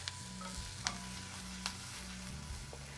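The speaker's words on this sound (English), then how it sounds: "Give it a little stir." A spoon stirs salt, smoked paprika and a sprig of fresh thyme through a pot of simmering syrup. Soft steady sizzling runs underneath, with a few light metallic taps of the spoon against the pot, close and quiet, no voices.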